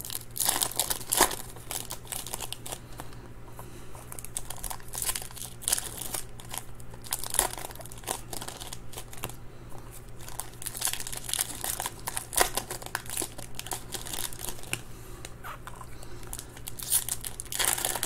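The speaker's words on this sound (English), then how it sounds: "we're opening the packs too aggressively" Topps Stadium Club baseball card packs are torn open and crumpled by hand, a long close run of crinkling foil wrappers with sharp rips and crackles breaking through at irregular moments.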